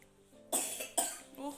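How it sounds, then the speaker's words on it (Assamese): Two sharp coughs in quick succession, close and loud, followed by a brief murmur of a voice. "কাহ হৈছে"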